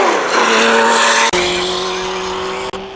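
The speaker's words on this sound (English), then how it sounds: "I help him out with a little tire lock up there" Race car on track at Portland International Raceway during an SVRA Group 9 race, its engine droning loud and close with harmonic tones shifting as the tires briefly lock up, two sharp dropouts marking gear changes.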